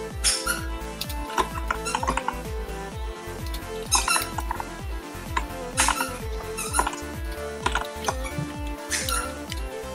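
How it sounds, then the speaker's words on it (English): A squeaky dog toy is squeezed over and over in quick uneven bursts, sharp close squeals repeating throughout with brief pauses between squeezes. "He likes squeaky toys."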